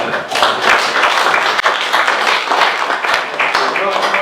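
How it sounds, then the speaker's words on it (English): Audience applause at a business cybersecurity event with Christmas drinks, a dense, steady wash of clapping lasting about four seconds, fairly loud and close throughout. "So I think another round of applause is."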